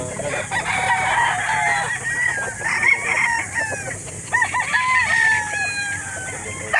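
Gilmore hens and roosters at a livestock market in Calauan, Laguna, crowing and clucking repeatedly, a dense overlapping chorus of nearby birds with no talk over it.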